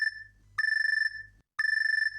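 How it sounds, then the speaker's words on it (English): A smartphone rings in the visual novel game Chaos;Child, a clean electronic tone that repeats in two sustained bursts separated by short gaps of silence, clear and upfront with no voices. "I realized it was just the sound of a smartphone"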